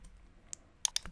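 Computer mouse clicks while editing subtitle regions in DaVinci Resolve 18, a sparse handful of sharp, close clicks: one isolated tap, then a quick pair, then a softer final click over quiet room tone.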